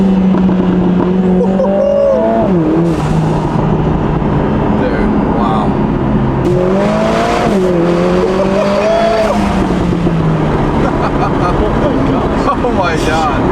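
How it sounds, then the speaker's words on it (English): A Lotus Emira with a four-cylinder engine and valved sport exhaust, loud and close, revving up and down in several rising and falling sweeps, with sharp crackles mixed into the steady engine roar. "Let's get some pops and cracks."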